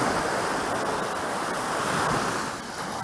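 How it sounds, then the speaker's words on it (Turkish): Sea waves wash continuously onto Alagadi beach in Kyrenia as wind rushes past, a dense, steady surf roar with gusty buffeting and no voices. "Deniz sesi, rüzgarın sesi."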